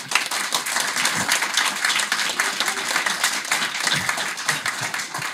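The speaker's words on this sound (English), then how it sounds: "I feel like I have to turn around and say thank you over there to the people clapping as well." An audience at a public debate event applauds to welcome a speaker, with dense, continuous clapping from many hands that holds steady from start to finish.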